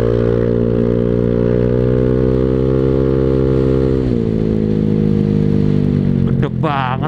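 A Honda Vario scooter with a new roadrace-style aftermarket exhaust rides along, its engine droning loud and steady with a slight pitch drop partway through and a brief flutter near the end.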